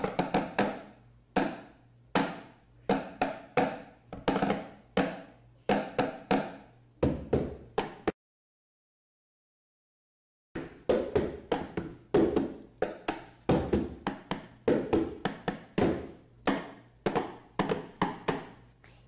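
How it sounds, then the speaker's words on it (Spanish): Small sticks drum on an empty box, sharp woody clicks and taps in quick, irregular bursts, close and moderately loud, with a few seconds of silence in the middle. "O si utilizo unos palitos, me da otro sonido."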